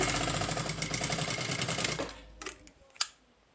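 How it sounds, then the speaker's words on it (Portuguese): A sewing machine runs a fast, steady, even chatter of stitches along the top of a binder cover for two seconds, then stops, leaving a few soft clicks and handling taps. "Vou passar uma costurinha só em cima, justamente para não ficar aí uma costura dupla."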